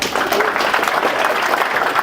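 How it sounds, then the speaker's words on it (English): Audience applause at a conference security talk, a dense, steady clapping from a crowd throughout, loud and close. "I will take your applause, even if it's out of pity."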